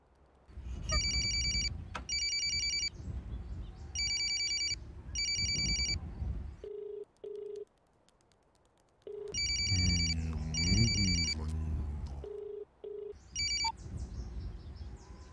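A telephone bell rings unanswered in repeated bursts, loud and close, with gaps of near silence between rings and a low rumble of background sound beneath.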